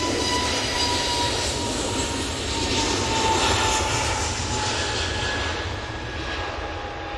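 An EasyJet airliner taking off at Manchester Airport, a loud sustained jet roar from the runway that holds steady and then fades slightly toward the end, with no speech.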